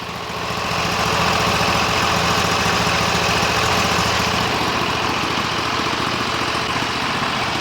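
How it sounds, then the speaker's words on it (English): A Sears tractor with a loader and a Briggs & Stratton 20 HP V-twin engine with 143 hours idles loudly and steadily, a continuous low rumbling chug that starts up in the first second and holds without talking. "Let's let it idle for a while, see what happens"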